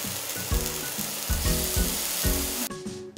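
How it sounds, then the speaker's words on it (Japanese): Thin slices of potato, lotus root and mushroom sizzle steadily in an oiled frying pan over medium-low heat, with a continuous close frying crackle and a few soft scraping or stirring knocks, no talk. "バレーショ、レンコン、マッシュルームを5ミリ幅の薄切りにし、油を敷いたフライパンで弱めの中火で両面を焼きます。"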